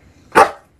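A dog gives one loud, sharp bark close to the microphone, with quiet room noise before and after.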